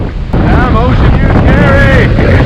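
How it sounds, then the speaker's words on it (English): Strong 52-knot wind at sea aboard a sailing boat during an ocean race, a loud, constant roar buffeting the microphone with whistling rigging tones above it. "52 knots of wind."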